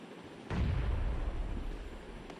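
A grenade goes off in a video game with a sudden booming blast and a heavy low rumble that slowly fades, no speech.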